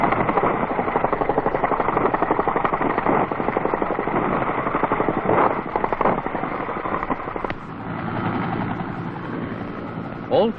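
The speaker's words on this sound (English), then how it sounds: "Resupply helicopters are made available from aviation units of the United States Army" United States Army resupply helicopter in Vietnam, 1968, its rotor beating in a steady rapid chop for about ten seconds, loud and fairly close, with the pitch and texture shifting near the end.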